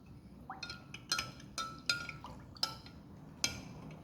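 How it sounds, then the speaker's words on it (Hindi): Ice cubes dropped into a glass of honey-sweetened lemon sharbat, giving five or six bright, close clinks spaced evenly over a few seconds, with faint liquid sounds between them and no voices. "और आइस क्यूब।"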